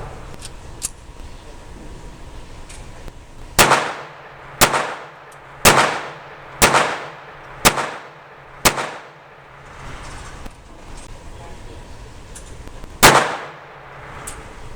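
Jennings J-22 pistol firing Federal .22 ammunition: six sharp, loud gunshots in a quick uneven string, then a pause and one more shot, with quiet background between.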